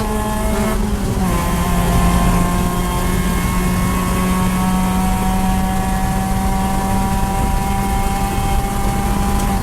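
A race car engine droning loudly and steadily as it engine-brakes into a left-hand corner during an endurance race at Clark Speedway, the tone holding low and even throughout, with no voices.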